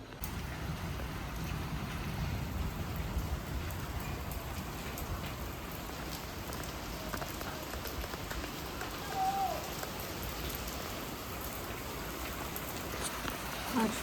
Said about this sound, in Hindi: आज सच में तेज़ बारिश है और लाइट भी चली गई है।